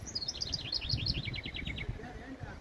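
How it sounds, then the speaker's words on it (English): A small wren gives a fast, high, trilling song of rapid repeated notes lasting under two seconds, fairly faint against a low rumbling outdoor background. "We got a little wren."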